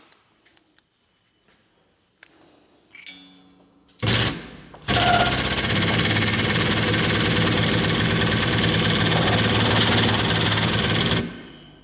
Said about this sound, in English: Just happen to have my air compressor right here.